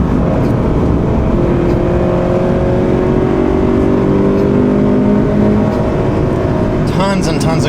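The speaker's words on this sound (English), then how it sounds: "The power is really, really good in this car compared to a stock BRZ." A modified 2017 Subaru BRZ accelerates on the road, its engine note rising steadily under constant loud road and cabin noise, with a brief clatter near the end.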